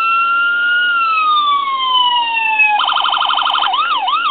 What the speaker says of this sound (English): The same four-tone siren that most builders use.